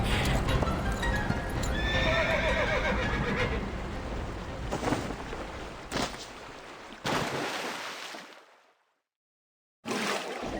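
A horse in the video game Reverse 1999 gives loud whinnies over rapid clip-clopping hooves, with splashing and a gunshot-like crack before the sound cuts to silence and briefly returns.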